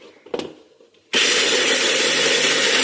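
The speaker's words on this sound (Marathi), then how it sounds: "इथं असं शेंगदाणे असं ह्या मिक्सर मध्ये टाकायचे. तर असं मिक्सर लावलाय" Mixer grinder switched on to grind peanuts: after a brief quiet clatter, the motor bursts into a loud, steady high whirring roar that continues unbroken to the end.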